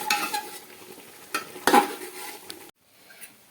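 Milk stirred into mutton biryani in a pot: a spoon scrapes and clinks against the metal in uneven strokes over a soft sizzle, with a louder scrape midway before things go briefly quiet.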